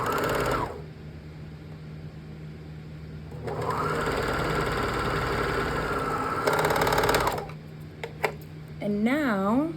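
A sewing machine stitches a seam in the round, its motor whirring in long steady runs with brief pauses and a few clicks in between, loud and close with no speech over it.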